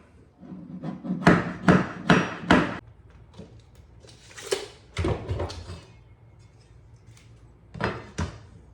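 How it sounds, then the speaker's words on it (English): A series of sharp hammer taps on vinyl plank flooring, a quick cluster of four, then scattered knocks with pauses between, close and fairly loud with no talking. "once you have it there, you tap it with a hammer"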